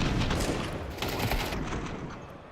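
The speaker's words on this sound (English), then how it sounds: "4 Deagle shots." Desert Eagle pistol shots in a Counter-Strike match ring out amid dense game gunfire and booms, a loud, busy burst of overlapping shots with no clearly separated single reports.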